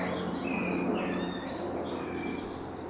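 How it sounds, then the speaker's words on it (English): Birds sing in quiet countryside, with high, thin chirps and whistled calls rising over a steady low hum of background noise, with no voices present. "Let's just take a minute to listen to the birds"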